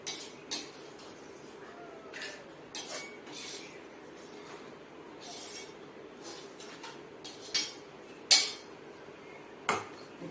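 Cooked cluster bean and dal kootu being scooped from one pot into another, with a run of light metallic scrapes and clinks of a spoon against the vessels, a few sharper knocks standing out, no talking.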